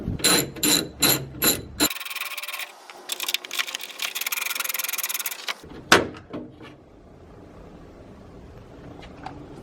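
Two 10 mm bolts coming out of a Saab 9-3 tail light, with close clicking ratchet bursts, a sustained buzzing rattle, and a sharp knock, then quieter handling noise.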